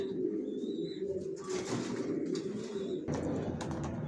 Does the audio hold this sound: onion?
no